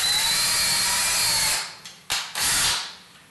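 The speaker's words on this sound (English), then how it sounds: "we're going to go ahead and just drill the shaft out" A standard hand drill with a 1/8-inch bit bores out the shaft of a clevis for a 2015 Honda CRF450, whining steadily and loudly at close range before cutting out in a few short, abrupt bursts near the end.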